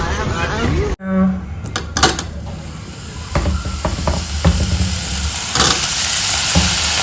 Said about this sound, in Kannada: ಇವಾಗ ಪನ್ನೀರನ್ನು ಫ್ರೈ ಮಾಡೋಣ